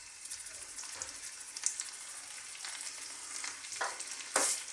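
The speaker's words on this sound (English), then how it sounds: "And we're just going to saute these around for about 3 minutes." Fennel and asparagus sautéing in a pan with salt and black pepper, a steady soft sizzle broken by a few scraping stirs and one sharper clatter near the end, close and alone.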